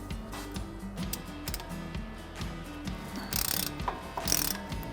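A socket wrench with a 21mm socket ratchets against a caliper bracket bolt on a Jeep Wrangler JK, giving rapid, evenly spaced mechanical clicks, close and clear, followed by a couple of louder scraping bursts near the end.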